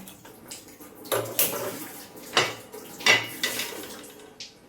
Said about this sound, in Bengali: এদিকে আমি দেখো তাওয়া বসিয়ে দেবো